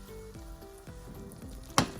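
Salmon frying in a pan gives a quiet, steady sizzle with soft stirring or scraping sounds, then one brief, sharper crackle near the end.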